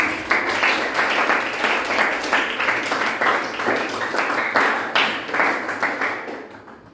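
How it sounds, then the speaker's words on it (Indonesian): A class of children claps in unison for their classmate, making a brisk, regular beat of loud hand claps repeated for several seconds before stopping. "anak-anak berikan tepuk tangan untuk teman kalian Kirana"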